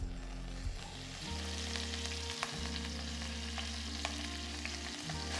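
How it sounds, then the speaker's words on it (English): Pork belly skin sears skin-side down in a little hot oil for soy-braised dong bo ro, a close, steady sizzle with a few faint clinks and no talk. "So I'm going to sear the skin now with a little bit of oil."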